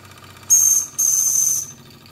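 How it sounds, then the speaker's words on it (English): A homemade model steam engine's whistle gives two loud, shrill hissing blasts, a short one then a longer one, close to the microphone with no talk. "Let's hear the whistle."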